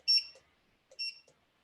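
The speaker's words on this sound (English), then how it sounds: "You'll probably hear some beeps." Two short, high electronic beeps from a corded barcode scanner about a second apart, clean and close, with quiet in between.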